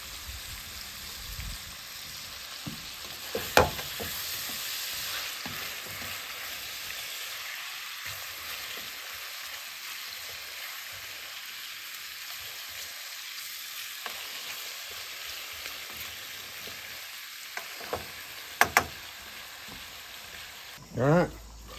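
Potatoes and sausage fry in a skillet with a steady, soft sizzle, close and fairly quiet, broken by a few sharp scrapes and clinks of a utensil stirring.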